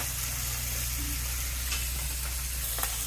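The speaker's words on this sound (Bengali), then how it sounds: "এই মাছগুলো এখন রান্না হইতেছে" Fish cooks in a pan with a continuous, moderately quiet sizzle and faint frying crackle, steady from start to finish, with nobody speaking.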